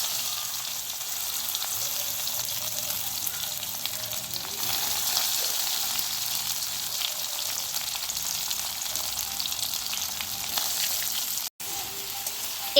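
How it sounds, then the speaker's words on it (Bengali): Chopped onions sizzle in hot mustard oil with cumin seeds and dried red chillies for a paneer dish, a loud, close, constant frying hiss with a brief dropout near the end and no voices. "এবার এর মধ্যে পেঁয়াজ কুচি দিয়ে দেবো এক এক করে।"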